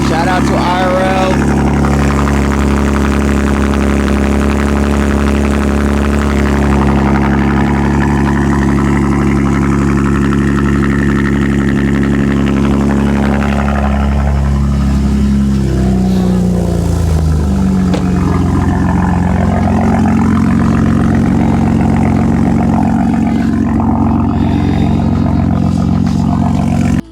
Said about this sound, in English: Beautiful morning cold start for you guys.